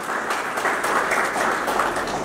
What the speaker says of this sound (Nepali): मञ्चको लागि जोरदार तालीले स्वागत गर्नु होला